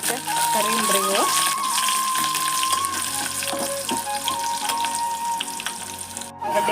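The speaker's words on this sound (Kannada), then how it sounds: "ಆಮೇಲೆ ಕರಿಬೇವು ಹಾಕ್ತಾರೆ. ಎಣ್ಣೆ ಒಳಗೆ ಅದಕ್ಕೆ ಕರಿಯಂಬ್ರಿ ಇವು." Curry leaves frying in hot oil for tomato saaru, a steady loud sizzle and crackle close up that continues throughout.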